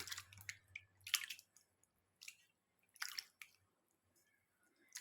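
Hands swish and squelch food in a bowl of water, giving soft, quiet splashes and drips in irregular bursts with short silences between, close by and without talk.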